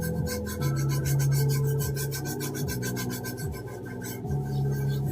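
Hands rub and burnish a freshly hand-painted surface in steady, close, continuous strokes, a dry rasping friction that sweeps back and forth with a low hum underneath and no talk.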